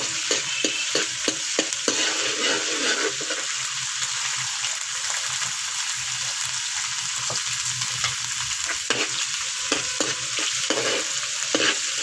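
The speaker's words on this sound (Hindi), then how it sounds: "इसको बस हमने तकरीबन 1 मिनट हल्का सा सौते करना है।" Chicken pieces sauté in a pan for restaurant-style chicken macaroni, a steady broadband sizzle close up, broken by the repeated scrape and clatter of a stirring spoon, with no talking.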